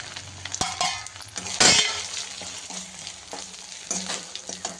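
Masala spices sizzle in a pan with minced meat for homemade kheema. A spoon stirs and scrapes in repeated strokes and knocks sharply against the pan, all close and without talk.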